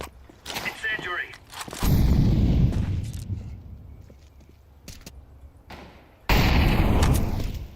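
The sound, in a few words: incendiary ability in Valorant video game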